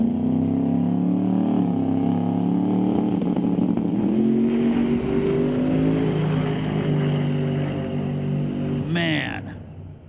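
The 393 cubic inch small block Chevy in a drag race car revs hard at the starting line of a Mission Raceway Park qualifying event. A sustained, loud engine roar climbs in pitch, then a sharp burst and the sound drops away.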